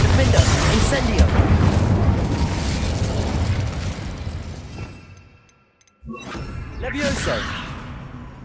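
Bombarda blasting curse going off in Hogwarts Legacy: loud roaring blasts with whooshing debris fade almost to silence, then another sharp explosive burst erupts and rumbles on.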